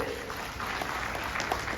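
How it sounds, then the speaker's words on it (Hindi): An audience at a ceremony honouring newly elected members of parliament claps, a brief, dense patter of many hands filling the whole short moment. "एक बार विजय भगत जी के लिए ताली बजनी चाहिए।"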